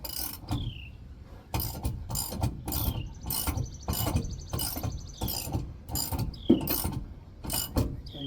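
A ratchet wrench tightens the bolts of a Reese gooseneck adapter collar on a 5th wheel hitch, giving repeated close, crisp clicking strokes in a steady rhythm with brief pauses, and faint metallic chinks between them.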